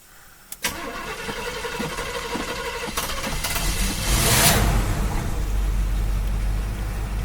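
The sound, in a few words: 1972 Chevrolet Camaro engine starting from cold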